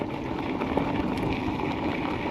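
Steady broadband rolling hiss of a Kukirin G3 Pro electric scooter's small tires on asphalt, continuous and even, with a faint airy rush and no engine sound.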